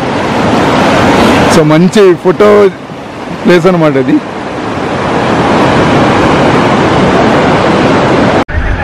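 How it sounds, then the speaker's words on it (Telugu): A heavy, clear mountain stream rushes steadily and loudly along the Kedarkantha trek in Uttarakhand, with people talking briefly over the flow. "వాటర్ ఫ్లో కూడా చాలా హెవీగా ఉంది."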